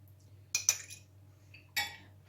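A metal utensil beats an egg in a bowl while dough is made for Tunisian fricassee bread: a few sharp, close clinks against the bowl over a quiet kitchen background.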